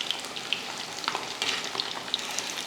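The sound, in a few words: fish frying in oil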